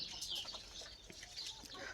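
Hens cluck softly while twenty to twenty-five chicks cheep in high, rapid peeps, a busy but quiet farmyard chorus with no one talking.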